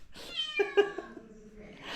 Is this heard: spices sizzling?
no